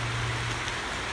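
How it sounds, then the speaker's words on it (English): Steady rain falling on an outdoor compost pile, a dense continuous hiss with a low hum underneath, close and fairly loud with no talking. "We're doing this in the rain"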